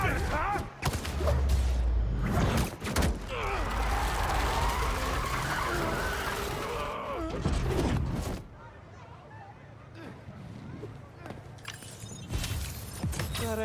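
A car driven recklessly in Spiderman 2 skids with tire screeches and crashes amid loud bursts, then settles into quieter background noise, with voices speaking over parts of it.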